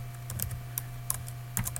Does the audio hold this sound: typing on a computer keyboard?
yes